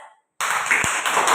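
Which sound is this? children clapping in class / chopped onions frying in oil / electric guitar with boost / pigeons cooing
children clapping in class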